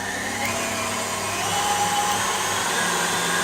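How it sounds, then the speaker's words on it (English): Stand mixer with a whisk attachment beating meringue until thick and glossy, a continuous close motor whir throughout with no talk. "we'll place the mixing bowl onto our stand with our whisking attachment. And then we'll whisk this for about another 5 minutes"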